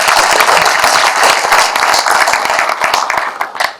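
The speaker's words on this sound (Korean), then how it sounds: "박수로 한번 시작하겠습니다" A lecture-hall audience breaks into applause, dense, close clapping with sharp individual claps standing out, holding strong before tapering off near the end.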